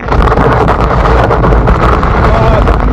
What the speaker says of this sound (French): écoutez-moi cet arrachage de sol lorsqu'on est comme ça sur sol meuble et qu'on enclenche le dual motor